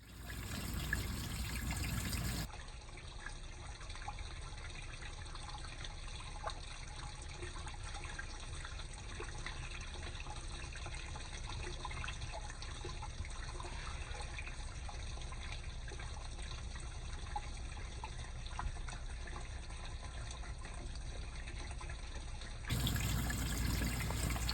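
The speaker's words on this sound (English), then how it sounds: "Now let's run our water through." Water runs through a hydroponic farm stand, flowing steadily with a continuous trickling, splashing hiss that holds an even level for about twenty seconds, close and moderately loud.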